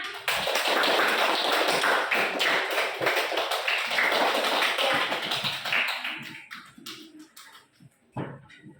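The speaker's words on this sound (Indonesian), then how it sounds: "Tepuk tangan dulu buat kalian semua." A classroom full of students claps for group presentations, a dense burst of many hands that fills the room for several seconds, then thins into scattered, fading claps.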